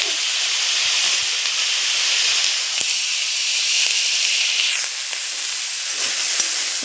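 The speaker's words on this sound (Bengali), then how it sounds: "এখানে পেঁয়াজ কালি আলু ভাজা হচ্ছে।" Onion and potatoes fry in a pan with a loud, continuous close hiss and sizzle of hot oil, a few faint stirring taps breaking through, no voices heard.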